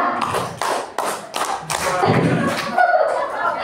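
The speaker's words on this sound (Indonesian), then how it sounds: "Tepuk untuk kita semua." A group at a school learning-community gathering claps hands in several sharp, rhythmic bursts, then looser clapping mixed with chatter and light laughter nearby.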